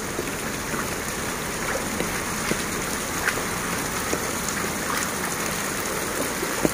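Hurricane Nora's heavy rain pours down on a flooding street in Acapulco, a constant loud hiss of water with scattered sharper drops and splashes, no voices.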